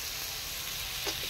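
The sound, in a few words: spice mixture frying in a pan for paratha filling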